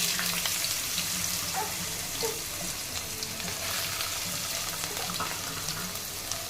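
Soaked chana dal crackles and sizzles steadily in hot oil, a dense continuous frying hiss close by with small pops scattered throughout and no talking.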